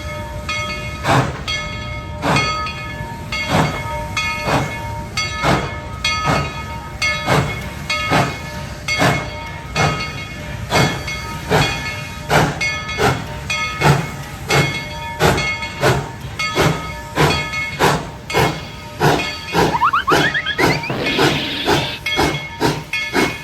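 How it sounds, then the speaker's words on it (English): A steam train at Tweetsie Railroad chuffs in steady, evenly spaced bursts over a constant hiss, the rhythm quickening slightly as it pulls away. "the train was getting ready to pull out"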